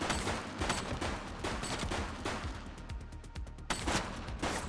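Rapid bursts of gunfire during a police shootout in an open-world video game, dense volleys of sharp shots with brief gaps, fairly loud and continuous.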